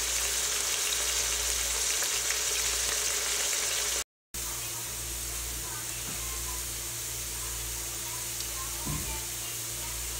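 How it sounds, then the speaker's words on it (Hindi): Onions cook in oil for a peas pulao, giving a steady, even hiss of frying with a low hum underneath and a brief cut of silence partway through. "ऑयल को प्याज के साथ अच्छी तरह से मिक्स कर लें और उसको पकने के लिए छोड़ दें।"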